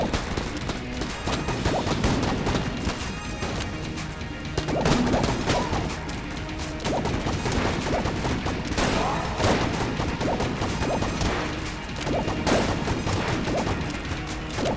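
Chaotic video game combat in Enter the Gungeon, a barrel gun shooting fish: dense, continuous bursts of shots, impacts and crashes with a busy music bed, loud throughout.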